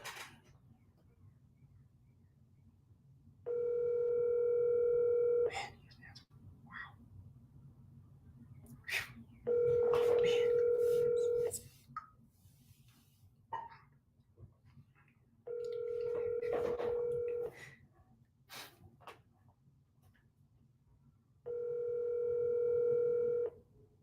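A telephone ringback tone sounds while a call waits to connect, four evenly spaced long beeps about six seconds apart over a low background hum, with faint handling noises between rings.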